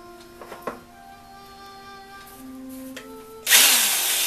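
An old electric drill from a workshop spins up with faint motor whine and a few clicks and knocks, then roars louder and runs steadily, nearby and without talk.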